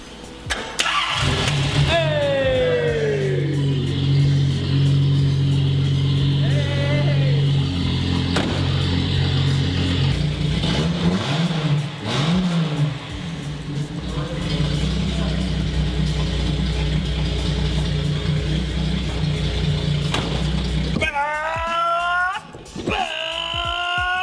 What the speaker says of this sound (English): Start the goddamn car.